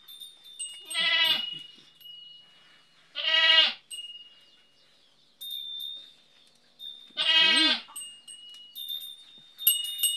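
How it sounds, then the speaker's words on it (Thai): Goats bleat on a Thai goat farm: three loud, close, wavering cries spaced a couple of seconds apart, with a steady high insect-like whine and faint background noise between them. "แพะนี่เลี้ยงง่ายเด้อทุกคนเด้อ"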